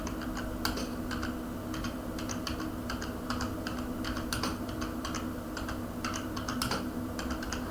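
Close, steady typing on a computer keyboard, a continuous run of crisp key clicks with occasional louder taps over a low background hum and no talk.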